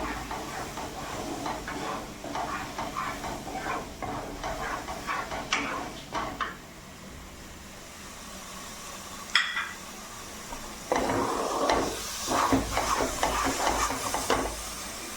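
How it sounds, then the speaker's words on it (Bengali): Spiced masala for a chicken roast fries and sizzles in a pan while being stirred, with steady close hissing broken by scraping bursts of stirring and a brief quieter stretch midway. "ভালো করে একটু নাড়িয়ে নেব।"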